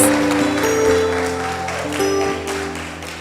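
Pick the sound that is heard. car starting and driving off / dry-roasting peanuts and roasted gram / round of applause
round of applause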